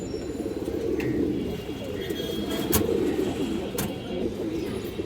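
Low, soft pigeon cooing rolls on continuously over a quiet background, with a few faint clicks and taps now and then.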